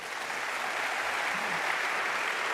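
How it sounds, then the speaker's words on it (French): Steady, dense applause from a crowd, continuous and fairly loud throughout with no voices standing out. "Donc Dominique Carlac, merci de l'applaudir."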